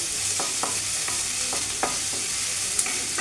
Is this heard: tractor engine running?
no